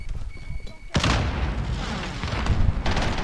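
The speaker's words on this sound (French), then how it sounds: "Je lance une grenade." Grenade explosion in the video game Call of Duty: Warzone, a sudden loud boom with a long rumbling roar after it, preceded by quieter game sounds and talk.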